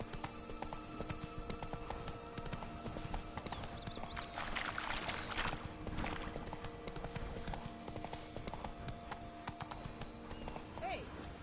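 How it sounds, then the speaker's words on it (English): Hoofbeats of the horse Roach clip-clopping steadily along a path in The Witcher 3, with a short whinny near the end, under game background sound and brief speech. "Whoa there, Roach"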